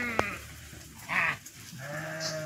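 Sheep bleat repeatedly as a flock passes along a road, with a sharp click near the start and several clear calls rising over a quiet background, including a longer drawn-out bleat near the end.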